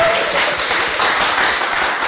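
Audience applause at a German-Brazilian EdTech hackathon's final presentations, dense steady clapping from a crowd filling the whole moment without a break.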